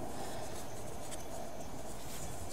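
Teflon tape being wrapped clockwise around the threads of a pipe fitting, a faint, continuous soft rubbing and crinkling close by.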